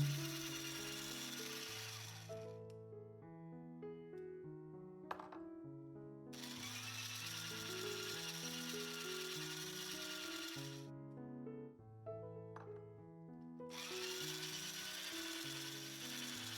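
An electric mixer beats butter, sugar and egg yolks for a honey cake batter, its whirring hiss coming in three long stretches under steady background music.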